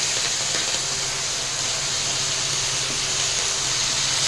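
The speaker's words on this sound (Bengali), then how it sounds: "মৌটি মাছটা আবার ভেজে নেবো। তেলটাও গরম হয়ে যাচ্ছে।" Mouti fish fries in hot oil, a loud, even, broadband hiss that runs unbroken and close throughout.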